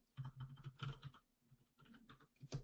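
Fingers type on a computer keyboard in short irregular bursts of close, faint clicking with brief pauses between.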